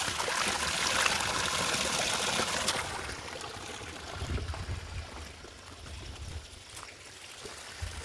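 Water pours steadily from stone spouts at a temple, a continuous splashing stream that is loud at first, then drops to a softer trickle with low gurgling splashes.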